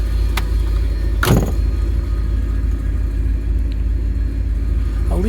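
A 1947 Cadillac engine idles with a steady low rumble throughout, joined by a brief mechanical clunk near the start and faint small knocks.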